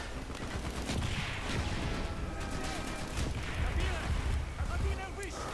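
Mortar team grenades go off in a Call of Duty Black Ops campaign battle: rapid, overlapping blasts and gunfire rattle continuously at moderate level, with someone talking over the combat noise.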